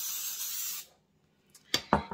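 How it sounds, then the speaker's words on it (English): Cooking spray hissing onto a small baking pan: a steady close spray for under a second, then silence and a few short clanks of the pan being handled. "So I'm going to spray my pan a little bit."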